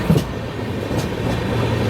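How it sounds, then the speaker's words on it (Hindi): The Korba Superfast Express train approaches with a steady, broad rumble that builds gradually, fairly loud and continuous, with no voices. "अभी उधर से आ रही है cobra express, cobra superfast express"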